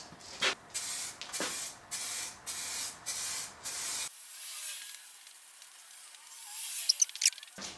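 Aerosol spray paint hisses in short bursts onto a BMW E30 body panel, several broadband blasts in a steady rhythm, then a quieter stretch with faint rustling and a few clicks near the end.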